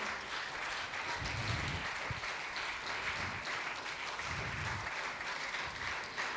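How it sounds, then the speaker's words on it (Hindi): Steady applause from a crowd at a convocation ceremony, continuous clapping at moderate distance with no pauses, fairly quiet overall. "तालियां चालू रहनी चाहिए।"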